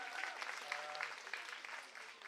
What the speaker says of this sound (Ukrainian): Подякуємо оплесками.